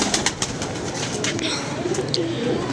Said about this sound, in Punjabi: ਵਕਾਰ ਭਾਈ ਇਹ ਭਾਈਜਾਨ ਇਹ ਰੰਗ ਵਾਲਾ ਕਬੂਤਰ ਕੱਢ ਕੇ ਲਿਆਓ